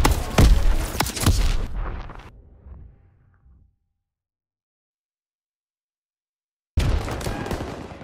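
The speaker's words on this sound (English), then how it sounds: "Throwing a grenade!" Grenade blast in the Call of Duty World War 2 video game, a heavy booming explosion amid battle noise that rumbles down into near silence before combat sound returns.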